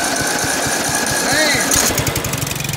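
A riding lawn mower's small engine cranks and fires after its starter solenoid is jumped with a screwdriver, a steady loud chugging with rhythmic pulses running the whole time, a voice briefly heard over it.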